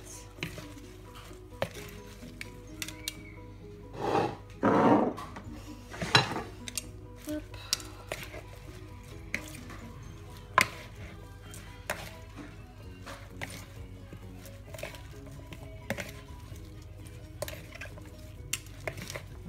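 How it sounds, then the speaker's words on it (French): Salad is tossed with vinaigrette in a bowl, with utensils clinking and scraping against the bowl in scattered bursts, a few louder stirring passages early on, and sparse clicks afterward. "Donc je viens mélanger ensuite donc, ma salade et ma vinaigrette"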